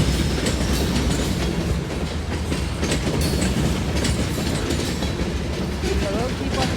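CSX freight train passing westbound toward Selkirk in West Springfield, a continuous loud clatter of wheels and rattling cars rolling by close up, with rhythmic clicks and a faint squeal, no talk.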